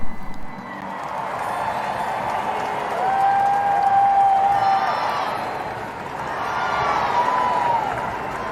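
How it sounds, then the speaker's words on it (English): Armed forces give a round of applause at King Charles III's coronation in London: a sustained wash of crowd clapping and cheering that swells and eases, with a few faint whistles over distant crowd noise. "The armed forces giving a round of applause."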